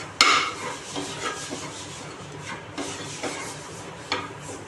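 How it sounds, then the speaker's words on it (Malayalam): Spice masala is stirred and roasted in a pan, with scraping, rubbing strokes of a utensil against the metal, a sharp knock at the start and a few firmer scrapes later, no talking. "നല്ലപോലെ ഇളക്കി കൊടുത്തിട്ട് അതിന് ചൂടാക്കി എടുക്കും"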